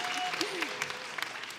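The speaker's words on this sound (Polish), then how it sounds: "I to najmocniejsze brawa dla Państwa, dla uczestników" An audience applauding participants at a local talent show, a dense round of clapping heard over a speaker's voice.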